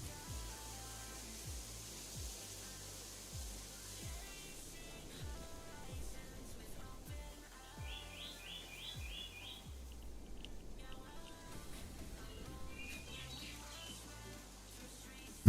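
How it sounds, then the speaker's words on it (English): Birds chirp in the video game BitCraft, in a few faint, quick twittering bursts set against a quiet ambient bed with soft, regular low thumps. "listen to the birds"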